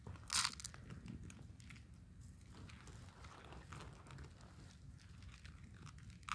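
Cats eat dry food from a bowl, crunching and chewing close by in a soft, irregular stream of small crackly bites, with a louder rustle at the start and end and no speech.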